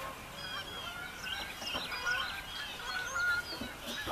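Geese honk in scattered calls, some faint and some nearer, over an outdoor backdrop with birds nearby.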